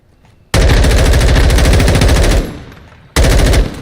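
Automatic weapon fire in the Call of Duty Modern Warfare II beta on Xbox: a loud, sustained burst of rapid shots lasting about two seconds that tails off, then a second burst after a short gap.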